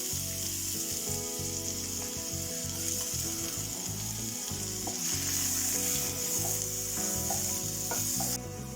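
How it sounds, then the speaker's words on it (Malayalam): Onions sauté in hot ghee in a Prestige pan with a steady, dense sizzle, broken by scraping and stirring strokes. No voices are heard over the constant crackle. "നമുക്ക് ആദ്യം ഉള്ളി ഒന്ന് വഴറ്റിയെടുക്കാം."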